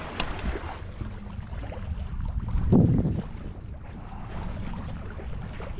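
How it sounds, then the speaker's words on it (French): A sailboat glides slowly under sail in light wind on the Mediterranean near La Ciotat, with soft water wash and gentle wind noise, swelling briefly around the middle before settling back to a quiet hush. "Alors on avance tout doucement à la voile."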